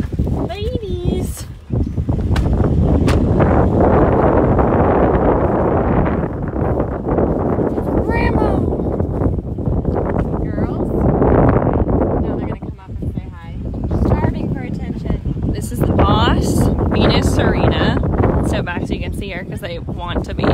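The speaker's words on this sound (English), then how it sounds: "I know it's a little windy" Strong wind buffets the microphone in loud, rumbling gusts while people talk throughout, with occasional light rustling, outdoors at a horse rehabilitation barn.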